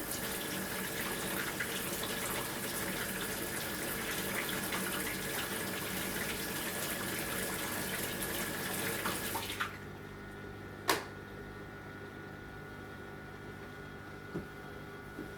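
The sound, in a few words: water running from a tap, filling an aquarium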